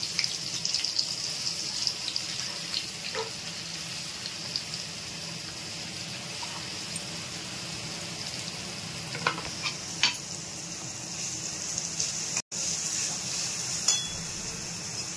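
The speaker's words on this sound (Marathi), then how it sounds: "आणि हा बारीक चिरलेला कांदा आहे तो आपण टाकूया याच्यामध्ये" Finely chopped onion, added with a little red chilli powder for a vegetable dum biryani, fries in oil with a steady close sizzle and occasional scraping stirs, with no talk.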